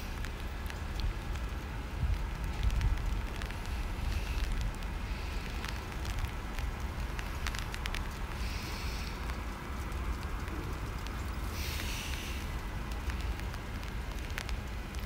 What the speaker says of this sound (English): You can actually hear the rain patting off the light border, as it's metal.